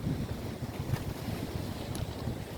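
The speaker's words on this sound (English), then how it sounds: "The wind has us again." Low, steady wind rumbling and buffeting close by, with a soft whooshing texture and faint brief sounds above it, no voices.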